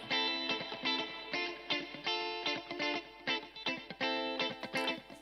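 A music track with reverb being adjusted from an SSL UF1 DAW control surface: a dense, distorted melodic loop with pulsing notes and lingering tails, steady and close, no voices.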